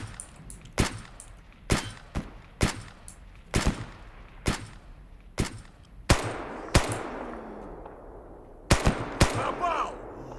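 Gunfire in the video game Escape From Pripyat, with about a dozen sharp single shots at irregular intervals, each followed by a brief echoing tail.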